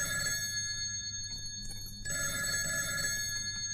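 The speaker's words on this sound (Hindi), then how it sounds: "हाँ जरा फोन लीजिए।" A telephone bell rings in a home in a Hindi film scene, with a bright, steady tone broken by a short gap and then resuming, fairly clear over a quiet room.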